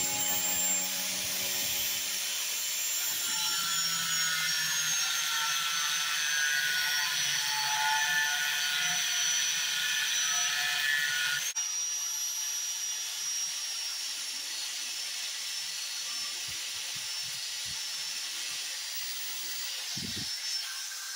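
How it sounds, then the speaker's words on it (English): An angle grinder cuts into a car's brake rotors, a loud, continuous high-pitched hiss and whine of abrasive on metal that runs unbroken and close throughout. "It takes a certain bravery to take an angle grinder to your brake rotors."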